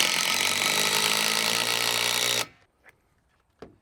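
A power tool drives lag bolts into aluminum post legs with one loud, steady whirring run of about two and a half seconds that cuts off abruptly, followed by a few faint taps and a small knock.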